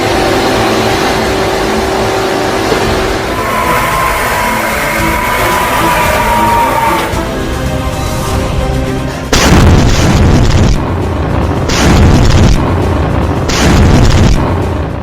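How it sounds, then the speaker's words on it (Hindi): Hezbollah cruise missiles strike in a war setting: a droning rumble with a rising tone comes first, then several heavy, loud booms land in rapid succession. "यह है हिजबुल्लाह की क्रूज मिसाइल।"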